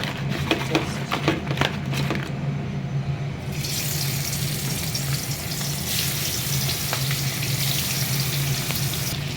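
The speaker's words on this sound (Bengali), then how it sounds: "তেলটা গরম হয়ে গেছে, হালকা ভেজে নেবো" Fish fries in hot oil with a loud, continuous, bubbling hiss, close by, and a burst of crackling spatters near the start, with nobody speaking.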